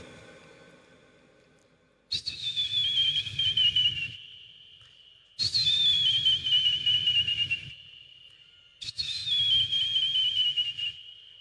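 A voice imitates a train guard's whistle, three long shrill blasts separated by short pauses, each starting sharply and sliding slightly downward, close and alone.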